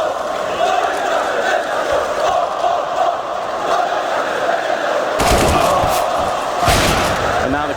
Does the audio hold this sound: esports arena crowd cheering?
yes